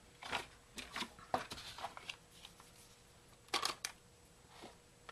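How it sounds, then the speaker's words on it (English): White cardstock being scored on a Score Pal scoring board: a few soft, close scraping strokes and light taps, quiet and dry with brief pauses between them. "I'm going to score it with my score pal"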